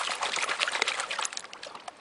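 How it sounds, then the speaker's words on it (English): Water washing and splashing through a gold pan during panning near Nome, Alaska, a bright, continuous rushing slosh close by that eases off toward the end, no voices. "use the water to wash it off"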